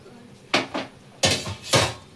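A cooking pot being handled while its inside is greased with oil for an egg curry, giving four metallic clanks in two close pairs, sharp and near, with no talking.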